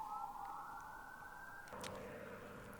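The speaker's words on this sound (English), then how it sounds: "Dang, here's some sirens" Emergency vehicle sirens wail in the distance near a desert, a faint rising tone sliding steadily upward before shifting pitch, with a brief burst of noise midway.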